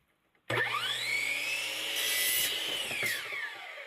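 A power saw cuts through a length of 3/4 inch pipe in one steady, loud, close whine that holds for about three seconds and then stops abruptly, with no voices.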